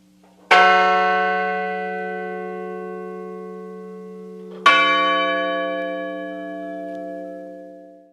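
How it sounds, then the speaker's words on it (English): Two deep, resonant church bell strikes about four seconds apart, rung at a memorial, each ringing out with a long, slowly fading hum. "the names of those who were killed were read aloud as bells rang out in their memory"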